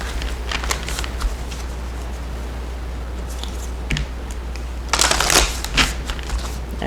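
Moonology oracle cards shuffled by hand close up, a series of soft riffling and sliding bursts with a denser flurry near the end, over a low steady hum.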